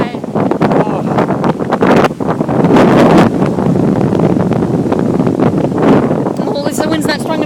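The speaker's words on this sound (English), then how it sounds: "at least the wind's not strong enough to blow a human away" Strong storm wind buffeting the microphone outdoors during storm chasing: loud, ragged roaring gusts that surge and fade, close and continuous, with people talking under the noise.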